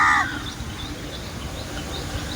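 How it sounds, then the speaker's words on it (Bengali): A crow caws once or twice near an outdoor spot where water gushes from a burst pipe, the call brief and fairly loud at the start over a steady rushing wash. "এই যে কাকটা এখানে কা কা করছে।"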